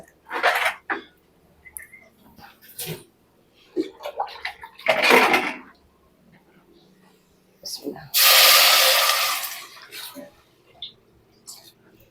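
Water pours steadily for about two seconds, a loud rushing splash into a cooking pot, between scattered kitchen clatter and brief speech.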